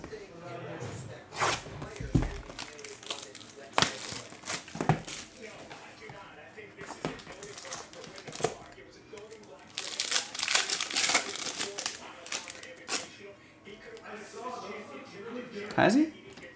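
A box of 2023 Topps Five Star baseball cards being opened and unwrapped, with bursts of crinkling wrapper and cardboard handling, sharp crackles and rustles coming in clusters over steady background activity.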